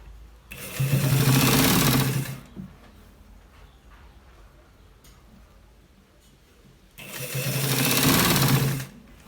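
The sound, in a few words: sewing machine stitching a collar shirt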